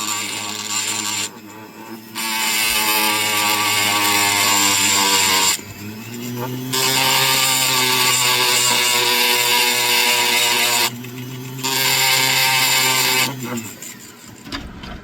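Diamond polishing points grind a fire agate stone on a rotary tool, a loud steady whirring hum that starts and stops in several long bursts separated by short pauses.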